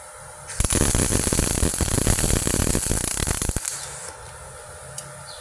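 A MIG welder arc, gasless or CO2, crackles loudly and steadily for about three seconds after a quiet start, then cuts off to a low electrical hum.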